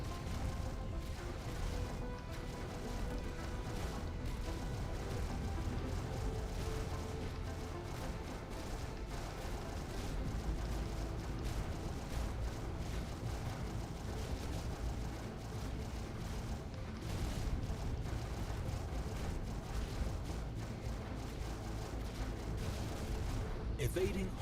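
Heavy giga cannons fire during a space fleet battle in the strategy game Stellaris, a dense continuous rumble of distant weapon blasts with bursts of impacts, layered under music and a talking voice.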